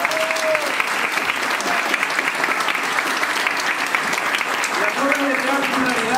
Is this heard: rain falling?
no